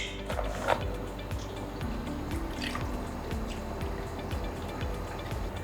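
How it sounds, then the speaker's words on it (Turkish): Milk poured over ice cubes in a glass for a homemade frappe, soft liquid splashing and trickling with occasional ice clinks, close and fairly quiet, steady throughout. "İçerisine 120 ml süt ekliyorum."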